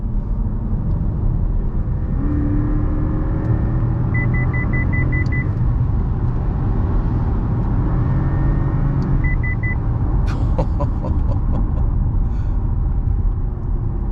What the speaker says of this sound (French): j'adore ce bruit de V8